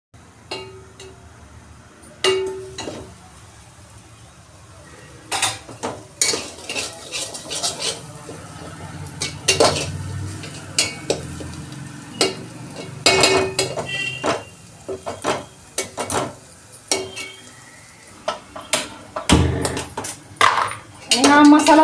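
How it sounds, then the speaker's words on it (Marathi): Chicken masala is stir-fried in a pan until the oil separates, with repeated metal spatula scrapes and knocks in irregular bursts over a low sizzle, and a voice speaks intermittently. "ह्याला चांगलं तेल सुटेपर्यंत हे मसाला परतून घ्यायचा."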